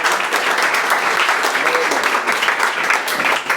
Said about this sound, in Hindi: इनका तालियों से एक बार पुनः स्वागत करें